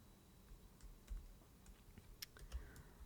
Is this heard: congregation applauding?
no